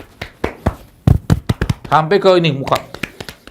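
Hands slapping the face and body in a quick self-massage, several close, crisp pats landing between and under a man's speech.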